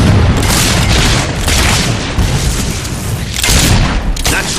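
Mortar fire and explosions in a Fable 3 battle at the gates: continuous loud booming blasts overlap one another throughout, a dense barrage of deep thuds and crackling bursts with a few sharper peaks.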